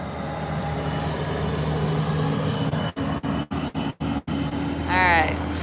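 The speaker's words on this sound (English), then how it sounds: "Here comes a big dump truck." A big dump truck rumbles past close by on a road near an industrial crossing, a loud low engine drone that holds steady, then breaks into sharp dropouts as it goes by, with a brief squeal at the end.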